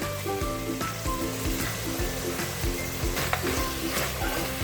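Mutton curry with yogurt cooking in a pan on a low flame: a close, moderate, steady sizzle with repeated soft scraping and clacking from stirring all the way through, and no speech.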